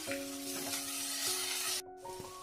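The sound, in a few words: spice masala sautéing in a pan for patal rasa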